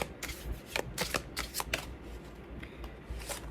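A deck of cards is shuffled up close in a quiet room, a string of quick crisp riffling bursts with short pauses between them, no voices.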